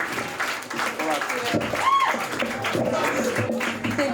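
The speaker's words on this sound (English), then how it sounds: "Huge round of applause." A comedy-club audience applauds as a stand-up comedian is brought to the stage, clapping and cheering layered with an emcee's voice and a few whoops, moderately loud throughout.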